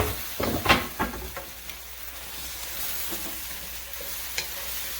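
Mushrooms and zucchini dropped into a hot pan and stirred, opening with a burst of louder clatter and sizzle that settles into a steady close frying hiss with occasional scrapes.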